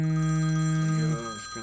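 A telephone sounds briefly as a steady ringing tone that cuts off after about a second, leaving quieter room noise, heard indoors during a university mathematics lecture with no talk.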